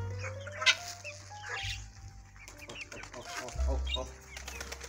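Village pet chickens and ducks crowd in for feed, with wings flapping in quick bursts, clucks and hen calls close by, and a voice calling them over the flock.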